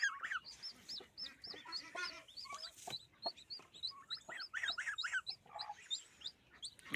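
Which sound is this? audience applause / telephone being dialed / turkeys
turkeys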